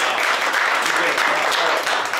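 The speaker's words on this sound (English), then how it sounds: "It was noted that I got applause" Applause from a county meeting audience greeting a county administrator, a short dense burst of clapping heard close and fairly loud.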